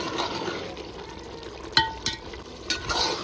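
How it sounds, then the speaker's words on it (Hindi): Water poured into frying masala in a pan, making a steady broadband sizzle with a few sharp bursts of spatter. "इसमें मैं पानी डाल के भुनाई कर रही हूँ"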